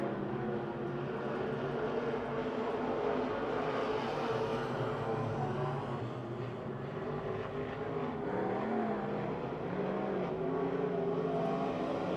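Race cars roar into turn 4 at Pittsburgh's Pennsylvania Motor Speedway, a dense, loud, continuous engine drone with layered pitches that swell and shift as the pack pushes through the corner.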